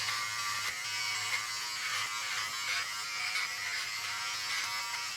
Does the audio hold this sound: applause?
no